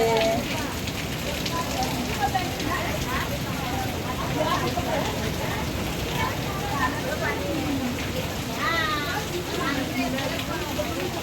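Heavy rain pours at Ganpatipule, a dense continuous hiss of water striking surfaces and splashing all around, with people talking and calling out through the downpour.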